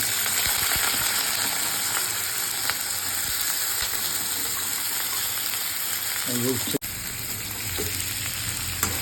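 Steady crackling sizzle of bitter gourd frying in hot oil in a wok, continuous throughout, with a brief metallic clink near the end.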